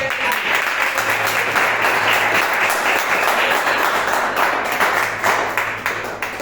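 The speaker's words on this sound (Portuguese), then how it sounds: "Vamos dar um bonito salve de palmas." A church congregation claps loudly and steadily during a healing service, a dense wash of hands with a faint sustained tone underneath, fading a little at the close.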